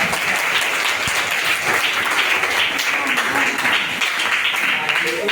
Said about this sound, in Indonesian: Tepuk tangan dong kepada.